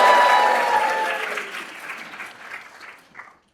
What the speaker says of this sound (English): it means you need to start cheering and screaming and clapping so that they stop